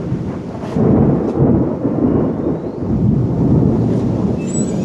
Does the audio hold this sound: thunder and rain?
yes